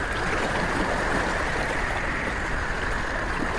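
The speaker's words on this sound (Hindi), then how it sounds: "देखो कितनी बड़ी बड़ी लहरें आ रही हैं, उसके साथ ये तेज हवाएं।" A dense, steady roar of water during a storm at sea near a boat, broadband and constant throughout, with no talk over it.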